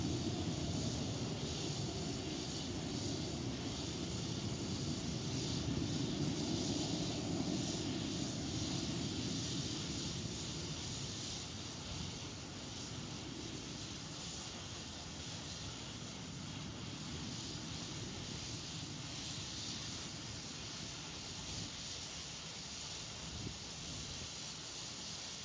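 An Astra rocket in flight, picked up by onboard cameras as a steady, roaring broadband rush that stays constant and fairly even throughout.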